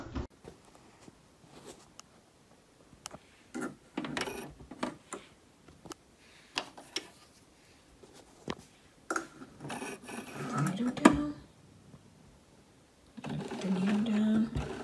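A sewing machine stitches a mitred pillow corner along an ironed crease, sounding as short separate bursts of whirring through the first half, then a longer stretch near the end. Quiet handling noises fill the gaps.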